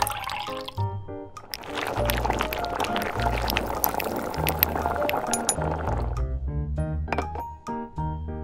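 Water poured into a tiny pan or bowl while cooking a miniature beef hotdog dish, a steady liquid splash with light clinks, close and continuous, backed by tonal music.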